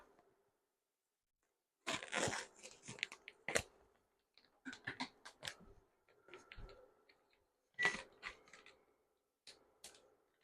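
Kitchen scissors snipping while preparing a rotisserie chicken dish, a few quiet, separate bursts of cutting clicks with pauses between them.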